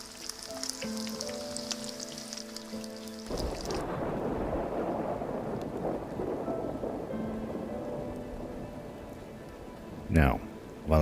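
Rain and thunder in the survival game DayZ, steady hissing rainfall with a low rumbling roll, preceded by a tonal game sound and ending with sharp close knocks.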